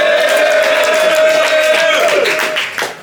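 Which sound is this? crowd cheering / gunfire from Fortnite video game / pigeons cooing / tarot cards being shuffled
crowd cheering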